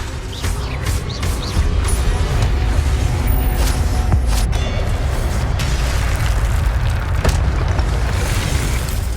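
Spells cast in Hogwarts Legacy on PS5, including the levitation charm Levioso: booming magical bursts and crackling effects that rise over a continuous rumbling game soundscape.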